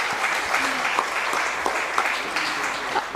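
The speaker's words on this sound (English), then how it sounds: "A big round of applause" An audience at an interior design institute's investiture ceremony applauds steadily, dense clapping sustained throughout with faint voices underneath.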